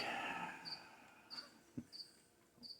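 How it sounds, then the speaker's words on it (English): A cricket chirps in faint, evenly spaced pulses against a soft hiss, with a light knock partway through. "that cricket's really bothering me"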